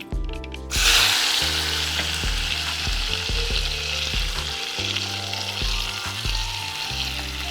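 Chopped onions and tomatoes sizzle and fry steadily in a hot pan, with occasional scraping and stirring sounds throughout.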